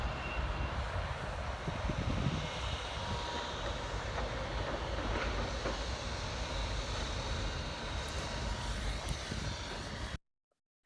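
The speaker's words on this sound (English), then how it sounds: "the plane coming into land" A plane comes in to land near a crane, its broadband engine roar steady and fairly loud throughout before cutting off abruptly near the end.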